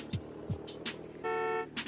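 A car horn in the video game Stretchers gives a sustained bright honk near the end of a short stretch of game sounds, following a couple of quick thumps and swooshes.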